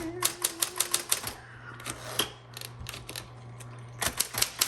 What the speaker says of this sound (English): Okay, I'm gonna type a little bit. Fantastic typewriter.